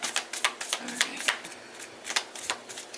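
Tarot cards are shuffled up close in a quiet room, giving a run of quick, crisp riffling bursts at a rough, uneven rhythm with brief gaps between them.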